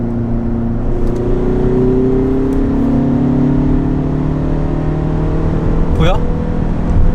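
A Kia Stinger with a 2.2 diesel engine and manual gearbox revs hard toward the redline, its loud engine note climbing gradually under continuous talk from people inside the car.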